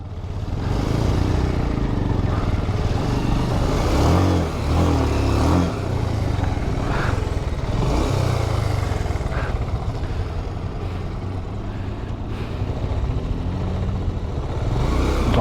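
A motorcycle engine revs and strains loudly while being ridden with a half-engaged clutch on a road to Sursing waterfall, rising and falling in a continuous close drone with no talk.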